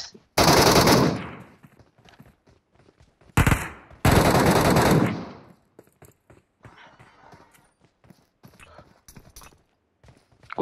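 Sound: gunfire in video game PUBG Metro Royale

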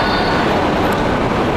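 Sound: LRT light rail train

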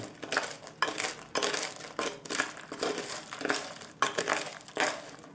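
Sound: stirring roasting pistachios in oven tray

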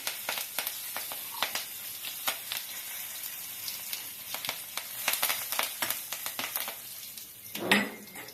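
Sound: curry leaves and asafoetida added to hot oil in pan

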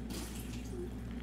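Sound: water filling an inflatable punching bag

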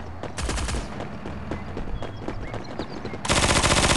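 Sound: Uzi gunfire in video game Forward Assault

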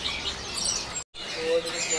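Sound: white-rumped shama (murai batu) singing at bird market

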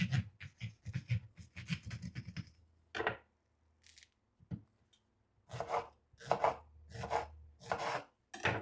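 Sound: cutting juicy peaches

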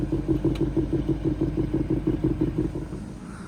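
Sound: BMW V8 car exhaust running

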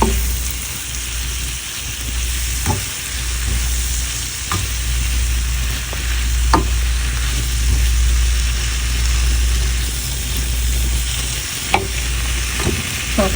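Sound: stirring Malabar spinach with spices in pan

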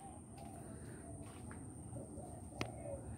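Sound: birds for sale calling, pigeon-like cooing

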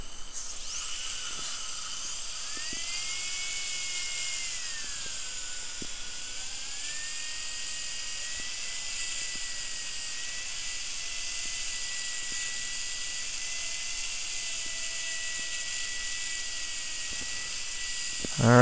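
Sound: dental handpiece polishing an implant crown

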